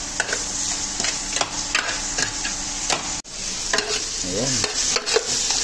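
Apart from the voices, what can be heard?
onion, tomato and garlic sautéing in a pan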